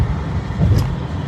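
Car cruising on Toronto's 401 highway, a steady low rumble of engine and road noise from inside the cabin with a faint passing whoosh.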